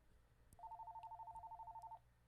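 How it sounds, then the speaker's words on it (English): A telephone rings once with a fast, steady electronic trill lasting about a second and a half, faint and somewhat distant amid quiet room noise. "Another phone call."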